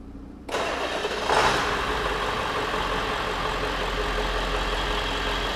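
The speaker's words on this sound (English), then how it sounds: "We want to start our engine." A car engine cranks and catches with a short rising burst, then settles into a steady, close idle hum that holds to the end, no talking.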